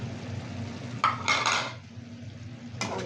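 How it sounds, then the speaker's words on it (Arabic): A utensil scrapes and clinks against a pan while tomatoes and other ingredients are stirred together, a few brief clatters over a low kitchen hum. "ونقلب كله بقى في قلب بعضه"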